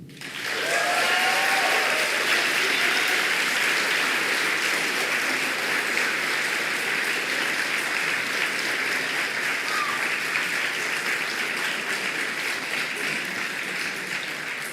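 At a university graduation ceremony an audience breaks into loud, sustained applause, steady dense clapping that fills the hall for the whole stretch.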